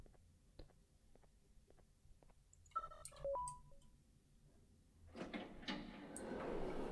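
Door sounds from the horror video game Garten of BanBan: a few clicks and mechanical clunks with a tonal chime, then a loud sustained hiss-like opening noise building over the last seconds, no talking.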